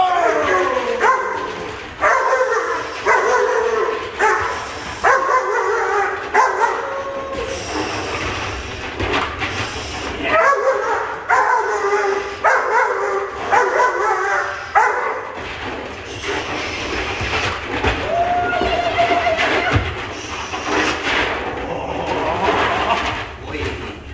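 A German Shepherd puppy in protection training barks, yips and whines in repeated bursts close by, while someone talks over and between the barks, with a faint engine hum underneath.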